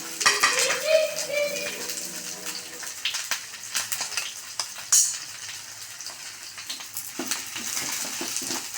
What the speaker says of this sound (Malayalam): ഇത് ഞാൻ ഒന്ന് ഫ്രൈ ചെയ്തെടുക്കാനായിട്ട് ഞാൻ എണ്ണയിലേക്ക് ഇടുകയാണ്